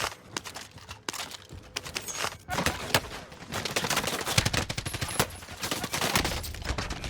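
Heavy gunfire in Call of Duty on Rebirth Island, an incendiary MP40 among the weapons, with rapid automatic bursts and dense volleys crackling steadily and loudly throughout.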